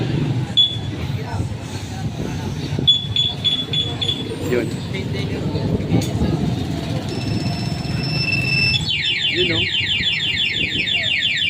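A motorcycle alarm system sounds during installation and testing: after a stretch of background noise and talk, a loud, rapid, pulsing electronic siren tone starts near the end and keeps going steadily, close to the microphone.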